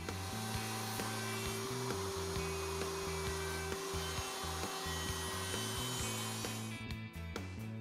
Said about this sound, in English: The socket board is then flipped end for end, placed against the socket board stopped, clamped in place, and the other end is routed.